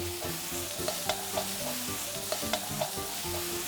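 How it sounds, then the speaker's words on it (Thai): Water mimosa being stir-fried with fried noodles for a shrimp noodle dish, a quick sizzle under repeated scraping and tossing of a spatula in the pan, with sharp clacks scattered through the steady frying. "ผัดกระเฉดผัดไปแป๊บๆหนึ่งรีบ ๆ กลับไปกลับมา"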